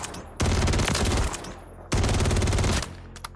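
Two sustained bursts of rapid automatic gunfire from a video game weapon, each lasting about a second, loud and close, separated by a short pause, with no talk over them.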